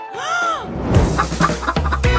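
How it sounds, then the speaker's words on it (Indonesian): A hen clucks close by during outdoor cooking, short choppy squawks and clucks in an irregular run after a brief rising whistle-like tone, with no talking. "Ya, baiklah, aku punya ayam di sini."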